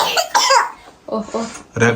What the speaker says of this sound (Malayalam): ചുമയാണ് കുഞ്ഞുങ്ങൾക്ക്